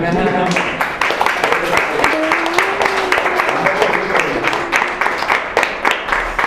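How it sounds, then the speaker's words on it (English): An audience claps together during a rupee banknote trick, a dense continuous patter of many hands with voices talking over it throughout. "You're ready to clap."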